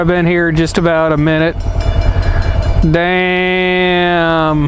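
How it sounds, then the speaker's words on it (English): A slow freight train rolls through a Connecticut railroad crossing with steady low rumbling and clatter, while a loud, sustained horn blast sounds near the start and again at the end. Someone speaks briefly over it. "Stuck here by a train. I hope it's going to move pretty quick."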